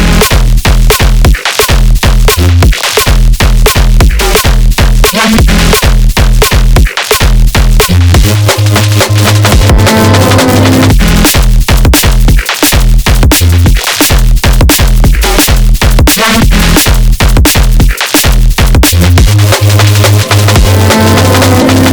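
A stabby drum and bass drop, dense and loud throughout, with punchy staccato bass stabs, rapid breakbeat drums and brief gaps punctuating a continuous heavy mix.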